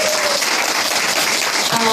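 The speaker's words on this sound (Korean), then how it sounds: "큰 박수 한번 해주십니다" A church audience at a testimony event gives a loud round of applause for a pastor and his wife. Dense, steady clapping fills the full two seconds, close and even, with no talk over it.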